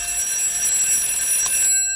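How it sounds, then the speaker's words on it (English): An alarm clock rings with a continuous, bright electronic trill, loud and close, sustained for nearly two seconds before cutting off abruptly. "your daughter has set an alarm for the street or her own self"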